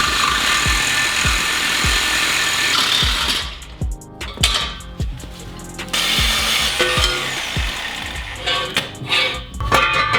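A power saw cuts at an angle through the steel exhaust downpipe of an Audi A3, a loud continuous buzzing grind with a brief drop in the middle and rapid rattling ticks throughout.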